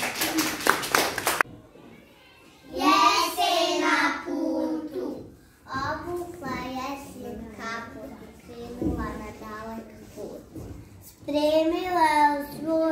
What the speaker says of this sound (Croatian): Pozdravimo ih velikim aplauzom